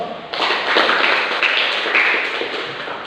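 Students in a school classroom applauding, many hands clapping in a sudden dense burst that holds for nearly three seconds before tapering slightly.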